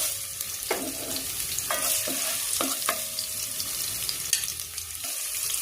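Garlic hits hot oil in a pan and fries with a close, bright crackling sizzle, broken by several sharp metallic clinks and scrapes of a stirring spoon.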